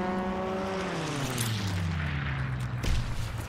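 A fighter plane strafing a target in a WWII video game: a propeller engine drone falls in pitch as it sweeps past, followed by a sharp burst of impact near the end.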